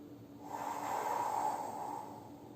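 One long, steady breath drawn in through the nose during a home back-strengthening exercise, close and fairly soft, swelling and then easing off over about two seconds with no talking.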